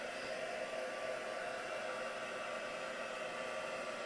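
Hair dryer blowing steadily to dry oxide paint, a continuous close, even rushing whoosh with no pauses and no talk.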